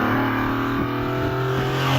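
A Triumph TR6 hillclimb car with a 2.5 litre straight-six engine runs steadily at a hillclimb, its engine note droning loud and continuous under a fairly constant throttle.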